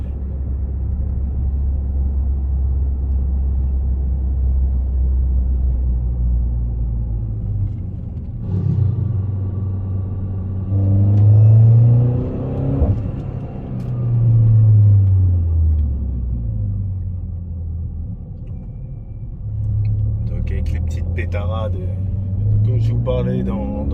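Inside a Peugeot 208 GTi, a steady low engine and exhaust drone rises and falls through several throttle lifts and light accelerations, with road rumble throughout and some brief crackling near the end.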